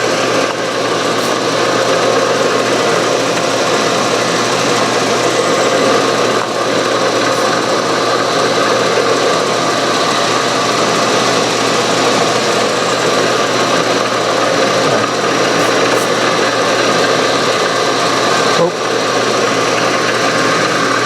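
A drill bores through metal clamped in a vise for a steam engine build, giving a continuous, loud grinding whine with a steady, unbroken tone and no pauses.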